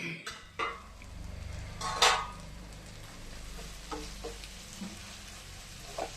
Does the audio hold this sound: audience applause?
no